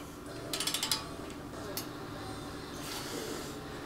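A torque wrench ratchets on Subaru ARP half-inch head studs, a quick burst of close clicks followed by a single click over quiet background hum.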